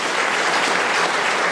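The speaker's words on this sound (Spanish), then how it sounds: "Da un aplauso a Jesús de Nazaret." A church congregation applauding during a worship service, a full, even roar of many hands clapping together, sustained without a break and with no voices on top.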